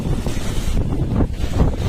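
Heavy rain between Porbandar and Junagadh pours in a loud, dense, continuous roar, close to the microphone and buffeting slightly, with no voices.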